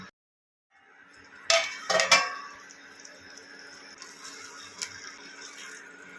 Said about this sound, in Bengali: এবার এটাকে একটু ঢাকা দিয়ে দিচ্ছি।